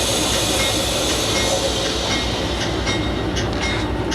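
A diesel locomotive rumbles steadily nearby as it backs up at the Conrail Enola diesel shop, with a loud, continuous low roar and hiss, faint rhythmic clanks as the cars slowly roll.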